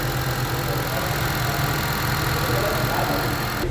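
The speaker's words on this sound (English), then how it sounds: "Okay, with a shot of the motor running." A 2014 Honda CR-V AWD engine runs steadily nearby, a dense, constant rumble with no change in pace.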